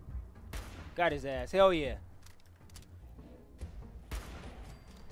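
Hunting rifle shots in Fallout 4, sharp broadband cracks spaced through the clip at moderate loudness, mixed with game ambience while someone talks excitedly over them.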